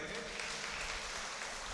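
A church audience claps for a late French missionary honoured at a gathering on the Puducherry mission: dense, steady applause filling the short moment, with a voice talking faintly underneath.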